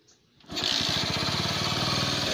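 A Bajaj CT 100 motorcycle with a starting problem fires up on the first try after a short click. The small single-cylinder engine then settles into a close, steady, buzzy idle.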